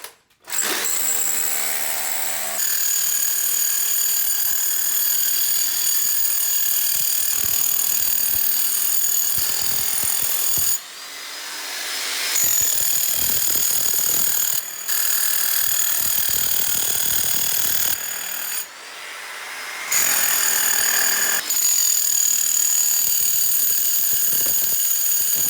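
Power drill grinding and chipping into concrete while tunneling under a slab for a sewage drain pipe, a loud, continuous high-pitched whine with a few short pauses.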